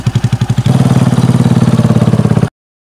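A motorcycle engine runs close and loud, starting with a slow, lumpy idle and then rising into a fast, steady throbbing beat of rapid pulses before cutting off abruptly.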